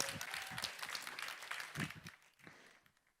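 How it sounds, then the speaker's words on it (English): Audience at a science symposium applauds with bursts of clapping that fade away toward the end. "Big round of applause for Woojin Park."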